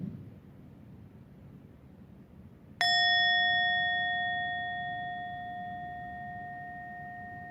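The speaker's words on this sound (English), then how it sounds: "Please close your eyes gently in the sound of the bell." A meditation bell struck once at the start of a breathing meditation class, giving a single bright, clear strike that rings on with a long, slowly fading sustained tone in a quiet room.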